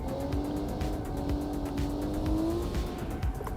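Executive race car on track braking hard into the first corner then getting back on the throttle, engine note sliding down and rising again with some tire noise, steady and close throughout.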